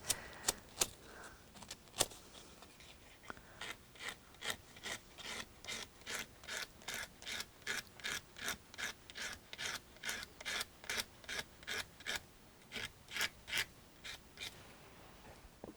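Rhythmic back-and-forth strokes of sanding on a small metal bracelet piece near the tang, a steady run of short, evenly spaced rasps, close and alone.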